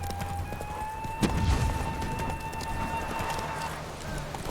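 A spurred mare gallops in The Witcher 3: a steady run of hoofbeats with one heavier thud near the start, moderately quiet and set against a sustained tonal backdrop.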